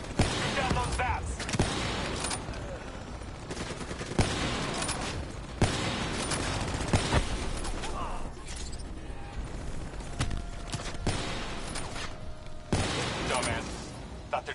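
Rapid gunfire in a Black Ops 3 match as bats are shot down, bursts of shots and impacts running throughout amid dense game effects and music, loud and close.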